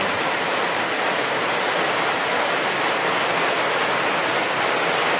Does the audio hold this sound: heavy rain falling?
yes